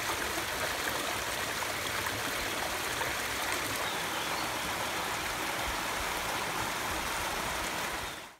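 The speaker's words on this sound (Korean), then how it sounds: "저희 집과 가까이 있는 중원계곡의 물소리를 담아봤습니다" Stream water rushing steadily through Jungwon valley, a dense, continuous wash of flowing water heard close and loud, with no voices, until it fades out at the very end.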